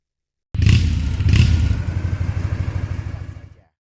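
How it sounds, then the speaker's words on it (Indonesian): Motorcycle pulling away slowly on a dark path, starting abruptly with a couple of heavy thumps, then a close, steady putter that fades out after about three seconds. "Motor Adi meluncur perlahan menyusuri jalan setapak yang gelap gulita."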